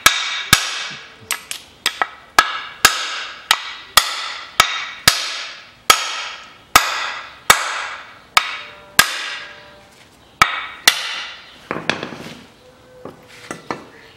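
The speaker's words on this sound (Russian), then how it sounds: "эту шаровую просто выбиваем молотком" A hammer pounds out the front ball joint on a 2007 Mazda 6: around twenty sharp metallic strikes, each ringing briefly, in a fairly steady rhythm that grows looser toward the end, close and loud.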